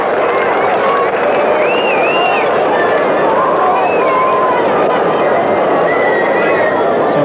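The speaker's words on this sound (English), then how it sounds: "The crowd a bit pensive there, the West Indian supporters." A steady murmur from the West Indian supporters at a 1978 World Series Cricket one-day match, World versus West Indies, with whistles and calls rising from the broad, constant stand noise; a commentator talks over it.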